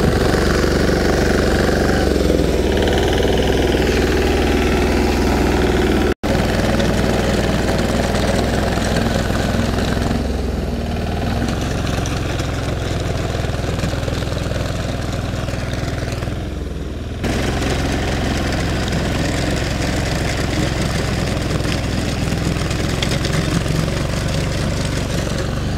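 An Apollo tractor engine breaks a furrow ridge in a farm field, a loud, continuous diesel drone that runs the whole time with steady rumble, broken only by a brief dropout.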